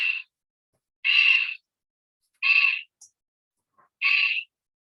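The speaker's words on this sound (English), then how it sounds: "And here's the little screech owl." An eastern screech owl calls four times in a row, each a short, harsh, wavering screech about a second apart, clear and fairly close against silence, with a faint brief click between calls.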